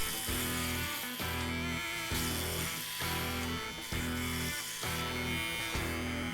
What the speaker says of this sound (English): You can actually hear that hair coming off.